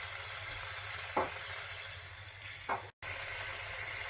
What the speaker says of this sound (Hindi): अदरक और लहसुन का पेस्ट डाल देते हैं।